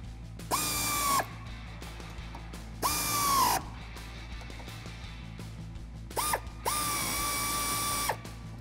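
Ratchet driving a 10mm socket to tighten the mud guard bolts on a 2016-2020 Toyota Tacoma, heard as three bursts of rapid close clicking with short pauses between them.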